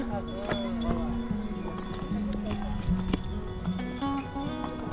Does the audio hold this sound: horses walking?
yes